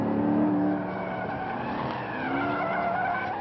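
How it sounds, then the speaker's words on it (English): A 2015 Corvette sports car with a V8 engine and grippy Michelin tires drives hard, its engine roaring loudly while the tires squeal and skid continuously throughout, with no talking. "You've got a wonderful V8 soundtrack behind you."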